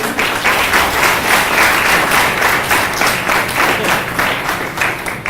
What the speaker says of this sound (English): a big round of applause for all these leaders on my list